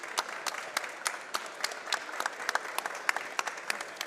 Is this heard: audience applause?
yes